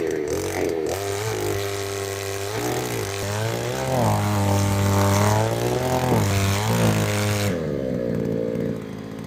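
A power earth auger drills a fence post hole through root-filled countryside soil, its engine buzzing loudly and continuously, with the pitch rising and wavering under load before the roar suddenly drops away near the end.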